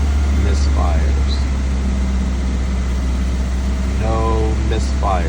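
A 2009 Mini Cooper 1.6-litre engine held at roughly 2,000 RPM gives a steady, continuous low hum that runs through the whole stretch, with a few brief voices breaking in near the end.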